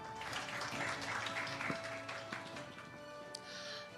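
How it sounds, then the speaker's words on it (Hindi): Audience applause at a TV9 Bharatvarsh Satta Sammelan event, a steady, fairly loud wash of clapping filling the hall as a guest is welcomed onstage, with a faint voice underneath. "जोरदार तालियां हो जाए, जोरदार।"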